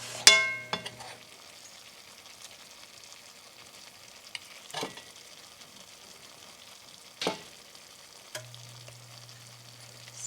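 Liver frying in a pan for a blueberry liver pâté gives a steady, faint sizzle, broken by a few clinks of a utensil against the pan and occasional scraping stirs, with no voices.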